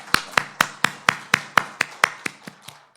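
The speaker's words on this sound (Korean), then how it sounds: "우리 하나님께 감사와 영광의 박수 올려드리겠습니다" A church congregation clapping together to thank and glorify God, about ten sharp, evenly spaced claps in unison that taper off toward the end, with no talking.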